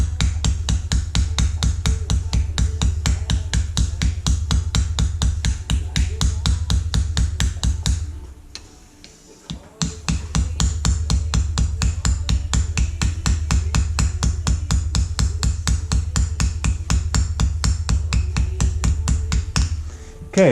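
A hammer peens pins into a knife handle with light, rapid, evenly spaced taps that continue for a long run, pause briefly, then resume at the same brisk rhythm.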